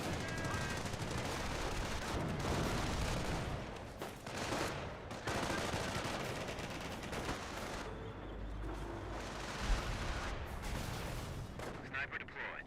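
Dense gunfire and artillery in the World War II strategy game Company of Heroes, with machine-gun bursts, rifle shots and heavy explosions overlapping continuously, loud and chaotic, with commentary voices underneath.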